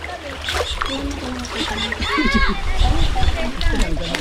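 Sea waves at high tide splash and slosh nearby in a steady wash at a beach in Lobo, Batangas, with people talking over it throughout.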